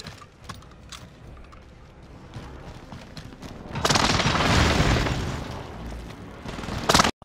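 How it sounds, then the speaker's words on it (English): An airstrike in the video game Call of Duty Warzone sets off a rolling series of loud, close explosions after a quieter stretch of scattered shots. The blasts build into a sustained roar and end with one final sharp burst. "Location marked. Airstrike. Hit it."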